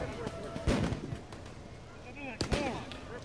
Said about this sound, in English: Flashbangs, tear gas.